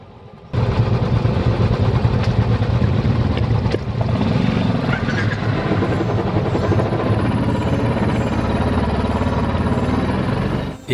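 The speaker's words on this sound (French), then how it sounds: "nous sommes contents de reprendre les motos." Motorcycles ride along a trek route in Nepal, their engines giving a loud, steady, close droning roar that holds for about ten seconds with no talking.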